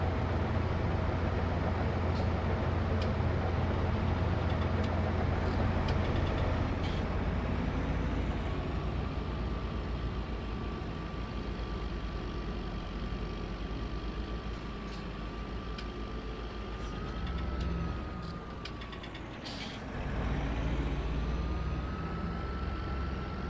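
Fendt tractor pulling a feed mixer wagon alongside an MB truck in Farming Simulator 22, a steady loud engine drone with a brief dip in the middle, no talking.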